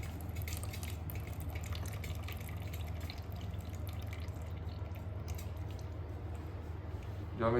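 Water from sweet jaggery mango pickle drips through a strainer held over a vessel, a soft run of small, close drips and trickles over a quiet background.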